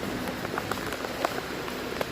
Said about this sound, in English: that rain ain't letting up at all